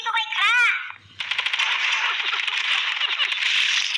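Video game gunfire, a rapid burst of automatic shots crackling continuously after a brief electronic tone, loud and close.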